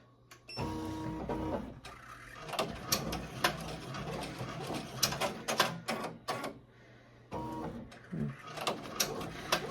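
An embroidery machine stitches a Christmas ornament, giving fast, rhythmic mechanical clattering in repeated bursts with brief pauses and a steady motor hum underneath.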